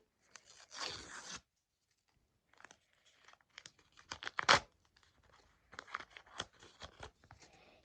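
Crinkly plastic rustling and tearing in short bursts, close up, with a sharp rip midway and scattered crackles after quiet pauses.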